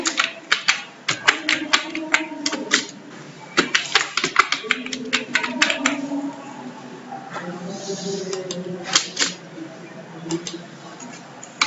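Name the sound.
pressing keys on a computer keyboard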